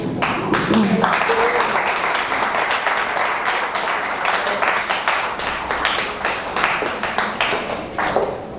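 An audience at a breast cancer awareness talk applauds the doctor, a loud, sustained wash of many hands clapping at close range that carries on for several seconds, with a voice faintly underneath.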